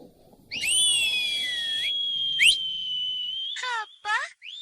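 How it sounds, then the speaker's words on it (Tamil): An elderly grandfather whistles loudly and steadily, holding one long high tone that bends at the start, then a short rising chirp and a few quick clipped whistle notes, all alone with no talk. "தாத்தா, உங்களுக்கு விசில் அடிக்க தெரியுமா?"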